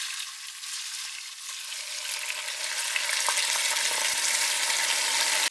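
Raw rice frying in hot oil with fried onion and whole spices for a fish biryani, a loud, close, continuous sizzle that swells steadily as it is stirred, with faint scraping clicks and no talk.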